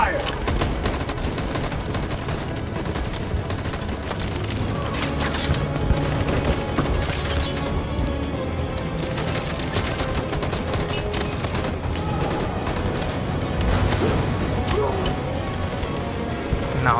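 Gunfire in the video game Detroit: Become Human, a sustained chaotic battle of rapid shots, bursts and crashes under constant noise, with voices talking throughout.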